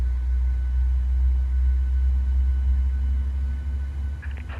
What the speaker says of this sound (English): God, I do love the startup sounds.